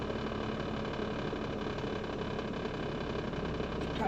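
A Maruti 800 car engine idles after an internal engine wash, giving a steady, even, low rumble that runs unbroken and fairly quiet throughout, with no voices.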